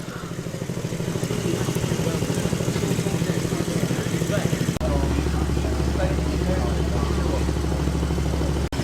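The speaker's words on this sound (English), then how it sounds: "This pretty spectacular 6-cylinder Honda." A six-cylinder Honda motorcycle engine runs steadily at a car show, a loud even rumble with a brief break partway through, then a deeper steady drone.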